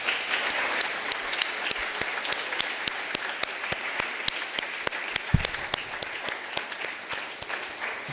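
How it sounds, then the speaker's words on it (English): An audience claps steadily for several seconds, a dense, even round of applause from a sizable crowd, with no speech over it. "I think we should give both speakers a round of applause"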